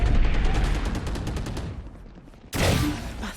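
Rapid automatic gunfire in a shooting video game, a loud close burst of quick repeated shots that fades, then a second sharp burst after a brief pause.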